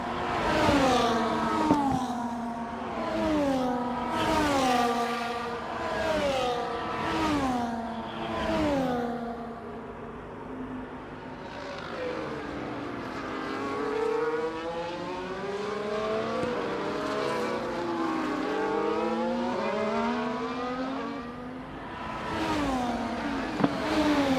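Formula 1 race cars at Zandvoort in a racing video game, engines revving and shifting through gears, high whining pitches rising and falling as the cars accelerate and brake, loud and continuous.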